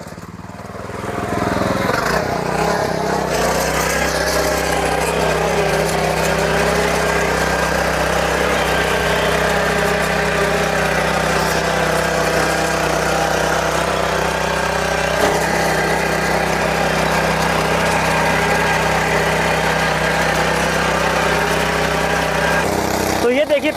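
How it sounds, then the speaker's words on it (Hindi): A Sraja RX11 Deluxe power weeder tiller runs in second gear, its engine holding a loud, steady mid-pitched putter that stays nearby throughout, with some variation in load as it works the soil. "फिलहाल जो ये टिलर है ये दूसरे गियर में चल रहा है"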